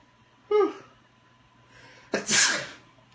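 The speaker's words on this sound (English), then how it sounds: "Excuse me, I had to sneeze there." One person sneezes over an amateur radio link: a short catch of breath comes first, then a pause, then one sharp, strong sneeze, with nothing else in the background.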